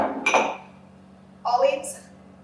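Cucumbers tumble into a bowl for a Mediterranean salad, giving two short bursts of clinking and knocking about a second apart, close and fairly clear.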